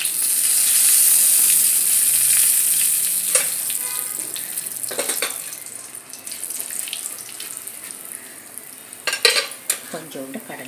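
A tempering of urad dal, cumin and asafoetida crackling in hot oil with mustard seeds for a raw jackfruit stir-fry: a loud hissing sizzle up close that gradually fades, broken by scattered pops and stirring scrapes.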